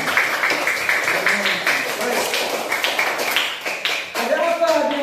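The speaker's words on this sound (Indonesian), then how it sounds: "Tepuk tangan untuk hari Jumat." A fourth-grade class clapping hands in rhythm, bright rapid claps close by mixed with children's voices and a teacher speaking.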